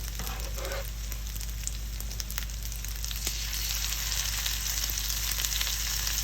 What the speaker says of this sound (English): There'll be a little bit of splattering just from the moisture that is in here.